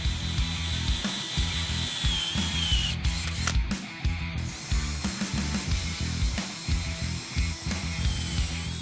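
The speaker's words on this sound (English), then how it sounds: "Using a step drill, I'm just going to make my way through the aluminum to put a mark on the roll cage." A step drill bores through aluminum paneling near a Ford Ranger prerunner's roll cage, whirring loudly and close in bursts with short pauses and a grinding bite as it cuts.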